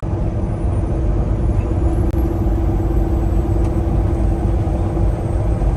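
A custom Peterbilt 389 truck driving, a steady low engine drone and road rumble heard from inside the cab, continuous and moderately loud with no talking.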